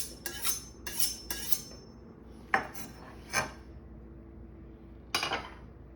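A knife cuts into a reverse-seared steak on a plate in several short, close scraping strokes with clinks of metal on the plate and brief pauses between them. No one speaks.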